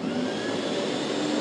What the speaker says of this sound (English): This is where the vacuum cleaner comes into play. The water is sucked out.